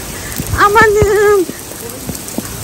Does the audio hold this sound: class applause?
no